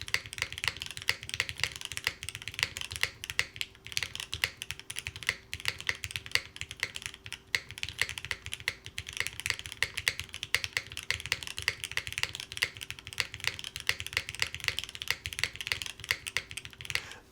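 Typing on an Intro S100 full-sized mechanical keyboard, a steady, dense run of close keystrokes with a resonant, prominent spacebar, continuous for the whole stretch with no talking.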